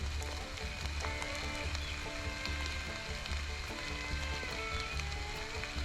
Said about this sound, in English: We need a little bit of sun with this rain we're getting here in south central Indiana